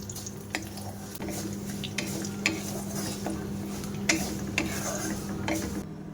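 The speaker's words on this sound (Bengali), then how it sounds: "দেখো আস্তে আস্তে ক্যারামেল হচ্ছে চিনিটা" Sugar caramelizing in ghee for semolina halwa gives a soft, steady sizzle under a low hum, broken by sharp spoon clicks and scrapes against the pan at irregular intervals.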